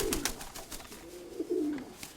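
Soft, low cooing of a pigeon, a couple of throaty rolling calls at close range with faint background noise and no talking.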